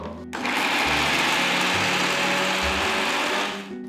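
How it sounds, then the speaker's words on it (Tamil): A mixer grinder whirs steadily at high speed, grinding a wet masala paste for salna, then winds down at the end; no talking. "இப்போது இதை நல்ல மையாக அரைச்சிக்கலாம்."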